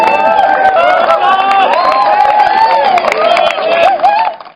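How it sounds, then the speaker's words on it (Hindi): Students in a college audience clap and cheer after a joke, a dense, continuous burst of applause with crowd voices mixed in, loud throughout and fading out at the very end. "देख रहे हो कितनी तालियां बजा रहे हैं"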